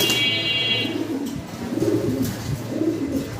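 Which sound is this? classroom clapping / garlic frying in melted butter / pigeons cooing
pigeons cooing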